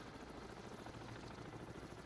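An enemy helicopter in the submarine game Cold Waters gives a faint, continuous muffled rumble, steady and distant with no voices over it.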